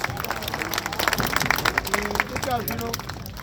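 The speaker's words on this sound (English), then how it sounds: "Let's give Juno a big round of applause." A live audience claps at an outdoor eagle show after a bird demonstration at a pool, the applause mixed with crowd noise and a voice talking over it.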